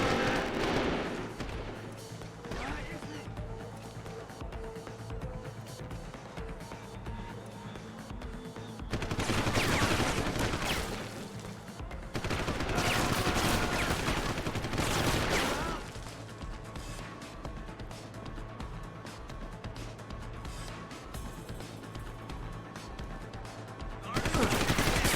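Gunfire in the video game Deus Ex: Human Revolution bursts out in loud, rapid volleys, with heavy stretches of sustained automatic fire separated by quieter moments of scattered shots and background game sounds.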